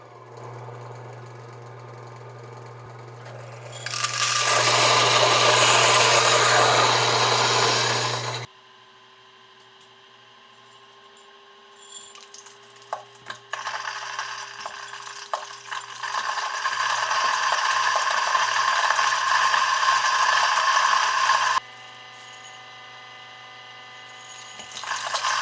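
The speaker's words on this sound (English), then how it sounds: "It grinds coffee in such a pleasant manner." A Timemore Sculptor 078 electric coffee grinder grinds beans in two loud bursts of whirring, crunching noise, separated by a quieter stretch with a low hum and scattered clicks, heard close with no voices.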